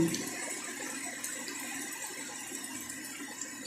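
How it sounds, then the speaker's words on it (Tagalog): Steady rain falls on a garden of vegetable plants after a hot day, a constant, close, even hiss of water with no voices. "Ulan, ulan, ulan."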